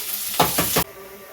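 Semolina finger rolls frying in a pan give a close, loud sizzle and hiss that swells with brief stirring, then cuts off abruptly to a quieter background.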